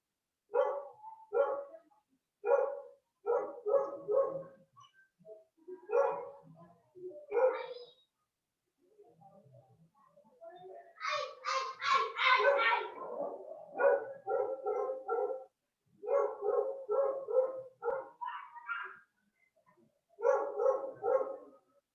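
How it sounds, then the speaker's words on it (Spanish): A dog barks repeatedly nearby in quick bursts of two to four sharp barks, with short pauses between, and a longer run of rapid barking in the middle. "Podríamos callar el perro."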